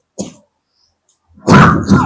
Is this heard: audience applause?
no